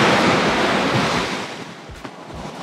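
Surf washes onto a secluded beach in a bay on Koh Rong Samloem, Cambodia, as a steady, close broadband roar mixed with wind buffeting the microphone that gradually eases and softens.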